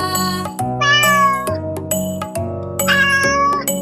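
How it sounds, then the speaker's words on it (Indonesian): A cat meows twice, long drawn-out calls rising and falling, set against a light, steady musical backing. "Suara kucing."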